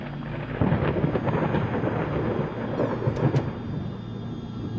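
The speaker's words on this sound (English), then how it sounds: "I find thunderstorms soothing." Thunderstorm ambience from the Layers of Fear video game: steady heavy rain with low rolling thunder rumbling throughout, dense and continuous, with no voices.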